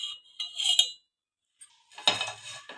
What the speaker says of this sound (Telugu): ఈ విధంగా నురుగు వచ్చేంత వరకు బాగా కలుపుకోవాలి ఎగ్గులు.